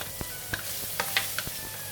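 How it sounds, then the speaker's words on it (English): Garlic dropped into about two tablespoons of hot cooking oil in a wok for a Thai basil beef stir fry, giving a soft steady sizzle with a few scattered clicks and stirring scrapes, close and quiet, no talking. "When the oil is hot, I'm going to put in the garlic"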